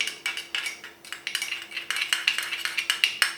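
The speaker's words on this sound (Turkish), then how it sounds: "Bu yumurta sarısının içine ekliyorum ve karıştırıyorum." A utensil stirring egg yolk with butter in a bowl, a steady rhythmic series of close clinking scrapes against the bowl, some dozen quick strokes with no talking.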